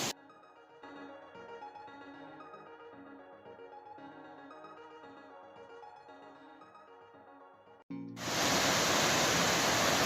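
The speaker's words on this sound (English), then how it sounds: "So this is the river I was looking for." A river on the Pacific Crest Trail rushes loudly as a constant broadband roar of flowing water. It cuts in abruptly near the end after quieter tonal sound and stays steady and close.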